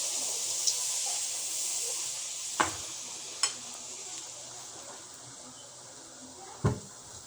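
Malpua batter frying in hot oil, a steady bright sizzle and hiss throughout, punctuated by a few sharp utensil knocks, close and moderately quiet with no talking.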